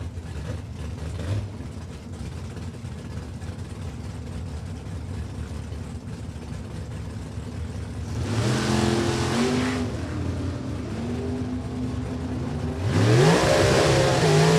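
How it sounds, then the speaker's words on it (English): Drag race between a 1967 Chevy II and a Corvette Roadster at New England Dragway: engines idle low at first, then two loud revving launches roar up in pitch, each ending abruptly. "with his 67 Chevy 2, taking on Oscar Olt out of Medford, New Jersey. His Corvette Roadster"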